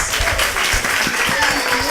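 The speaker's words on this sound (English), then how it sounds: "if we can give a round of applause for our lovely panelists" Applause from a panel audience, a dense wash of clapping that carries loud and steady throughout, with some voices mixed in.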